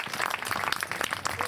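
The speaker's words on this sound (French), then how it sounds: "on peut les applaudir" Spectators at a polo match in La Baule clap, a short burst of scattered, fairly faint applause heard from a distance.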